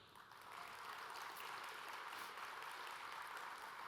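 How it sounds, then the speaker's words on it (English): A General Assembly audience claps for a recognized faculty group, the applause swelling in the first half second and then holding as a steady, fairly distant wash of many hands. "So everyone, please give a round of applause for this entire group"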